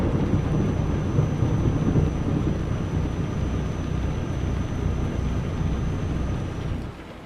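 Heavy rain with rumbling thunder in Euro Truck Simulator 2, a dense, steady roar that stays loud and even throughout before easing slightly at the very end, with no talking.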